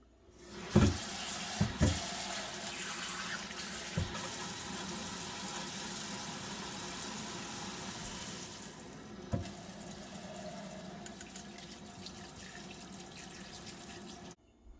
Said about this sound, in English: I'm going to just kind of gently rinse them off